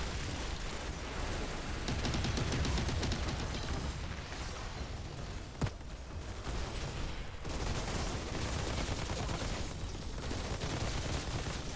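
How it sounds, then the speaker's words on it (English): Gunfire in the game Outriders, a dense continuous barrage of shots and bursts mixed with explosive booms, steady and loud throughout with one sharp crack near the middle. "shoot some guys in the face"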